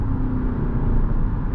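Lexus ES 300h F Sport hybrid sedan pulling onto a highway, a steady low engine and road drone building under acceleration, close and continuous with no voices.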